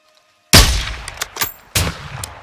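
Gunfire in the video game Call of Duty Modern Warfare 2: a loud sudden shot after a moment of silence, followed by two more spaced, booming shots with rumbling tails, close and forceful.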